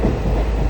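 Steady rumble and clatter of a running passenger train heard from inside an air-conditioned compartment on a trip to Ernakulam, continuous and close.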